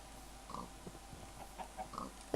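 Pigs oinking in the Minecraft video game, several short grunts spread across the stretch at moderate volume over quiet game ambience, with no speech.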